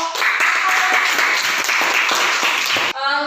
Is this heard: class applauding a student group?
yes